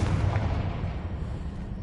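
The Confringo spell in Hogwarts Legacy goes off as a low, booming blast that starts loud and rumbles on with a slowly fading tail.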